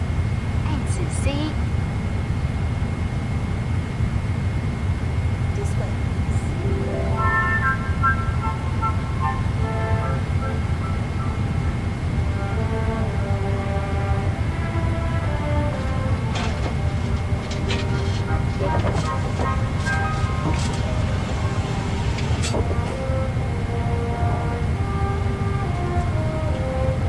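Inside the cabin of an EVA Air Boeing 777-300ER taxiing, a steady low engine rumble and hum runs throughout, and a voice announcement plays over it.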